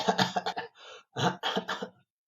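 Several harsh, close coughs in quick bursts with short gaps between them, ending in silence.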